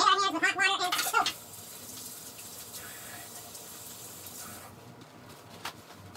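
Hot tap water runs steadily into a kitchen sink while a knife and hands are washed with soap, a louder splashing burst at the start settling into a continuous gentle flow.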